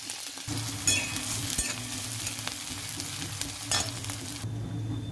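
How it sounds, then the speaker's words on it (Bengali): Sliced onion frying in about two spoons of oil in a kadai wok: a steady close sizzle throughout, punctuated by a few sharp stirring clicks and scrapes, with no voices. "কড়াই 2 চামচের মতন তেল দিয়েছি। পেঁয়াজটা ভেজে নেব।"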